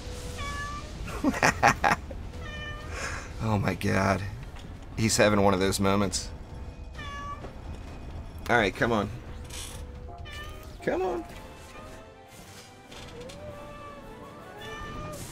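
A house cat meows repeatedly in drawn-out, insistent cries close to the microphone, with someone talking between and over the calls.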